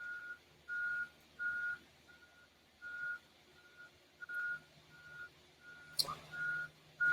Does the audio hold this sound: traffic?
yes